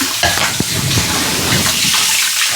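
Prawns fry in a pan for a home-cooked prawn roast while a spoon stirs them, a steady sizzle broken by scraping strokes, close and fairly loud, with no talk.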